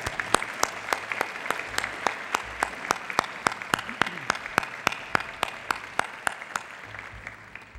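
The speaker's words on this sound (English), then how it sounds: "Please give all these people a round of applause." Audience applause at a Long Beach City College State of the College event, steady clapping from a crowd with sharp, regular louder claps standing out near the front, lasting throughout.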